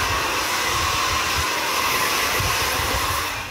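A hair dryer on a low setting blows steadily and loudly in a barbershop, a continuous whooshing airflow that eases off slightly at the end.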